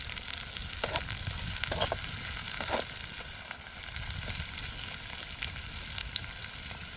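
Onions and green chillies sautéing in a pan give off a quiet, steady sizzle and crackle, with a few soft stirring scrapes mixed in. No one speaks.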